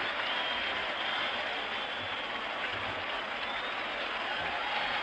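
A large baseball crowd roars as a dramatic 12-inning 1975 World Series Game 6 between the Red Sox and the Reds ends past midnight, producing a steady, dense wash of cheering and applause that holds level throughout.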